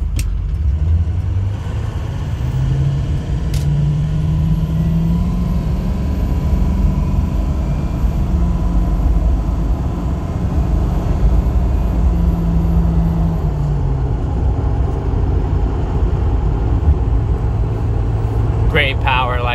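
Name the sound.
2006 Ford F350 6.0L diesel truck driving at half throttle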